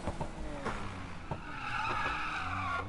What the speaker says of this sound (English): And I have my little drifting. Go to get my e-brake.